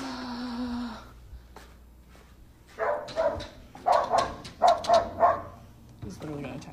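A dog barks in a rapid series of sharp, close yips just before being fed, with a person talking near the start and between the barks.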